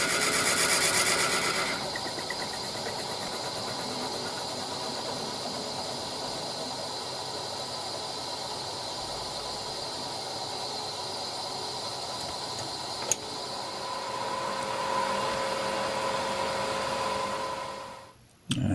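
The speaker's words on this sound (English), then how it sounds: "That's a 1-inch Forstner bit in the Jacob's chuck there" Wood lathe spinning while a 1-inch Forstner bit in a Jacob's chuck bores into the workpiece, a steady droning motor whine with grinding hiss, close and continuous, with a brief click midway and a sudden stop at the end.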